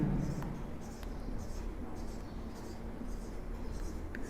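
Chalk or marker scratching across a classroom board as a numeral is written, a soft scraping with short strokes, fairly quiet under a low room hum.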